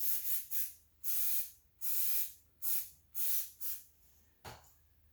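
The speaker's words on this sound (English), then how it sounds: "for now, we'll just spray the outside first." Aerosol cleaner is sprayed onto the outside of a rusty Honda B18B1 intake manifold in seven close, sharp hissing bursts of about half a second each, separated by brief pauses, with one shorter, weaker puff at the end.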